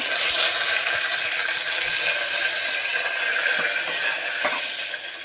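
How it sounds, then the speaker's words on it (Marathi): Cumin, garlic and curry leaves sizzling in a little oil, a loud continuous crackling hiss that stays even throughout with a few faint clicks underneath. "तेल घातलं आहे आणि थोडंसं जिरं लसूण"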